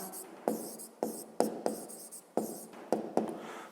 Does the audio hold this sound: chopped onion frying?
no